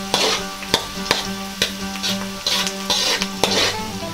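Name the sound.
beef and mushroom sizzling while sautéing in a pan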